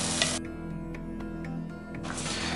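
Onion and chili paste sizzles steadily in a pan for a Bengali omelette curry, a constant close frying hiss with a brief dip in the middle, no talk.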